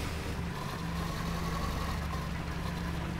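A tractor engine idles in the farming game Farm Together, a steady low mechanical drone with a faint hum that runs unbroken and even for the whole stretch, with no talking over it.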